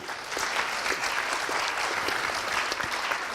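An audience at a round-table session of a French wine-tourism conference applauds warmly, steady dense clapping from many hands at a moderate distance that carries on without a break.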